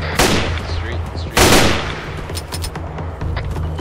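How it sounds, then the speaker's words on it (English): Small-arms gunfire in an Arma 3 battle set in a dusty street fight, two sharp, loud nearby shots followed by scattered quieter distant cracks and rattling fire. "Shots fired"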